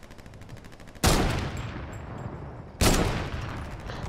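Two loud sniper rifle shots in Fortnite, each a sharp blast with a long decaying tail, fired about two seconds apart, with quieter game sounds in between.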